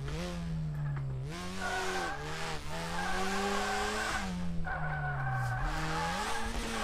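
Car tires screeching in long, wavering squeals while drifting on a mountain touge track in the DRIFT21 video game, with the engine droning loudly underneath and no talk.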